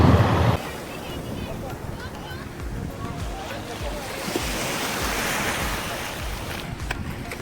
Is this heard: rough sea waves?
yes